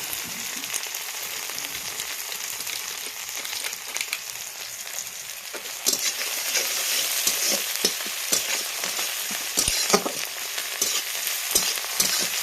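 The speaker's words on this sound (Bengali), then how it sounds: "পেঁয়াজটা ভাজা ভাজা হয়ে গেছে। এবারে আমি রসুনটা দিয়ে দেবো।" Onion and garlic fry in oil in a pan with a close, crackling sizzle, punctuated by stirring scrapes; the frying grows louder and busier about halfway through as more goes into the pan.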